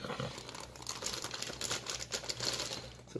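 Plastic packaging being cut open during the unboxing of an action figure, producing a continuous close crinkling and rustling with small crackling snaps, fairly quiet and unaccompanied by talk.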